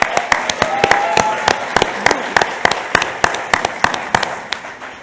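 Live audience at a leadership summit claps and cheers for arriving guests, sharp hand claps popping loudly over a dense, steady crowd roar that lasts throughout.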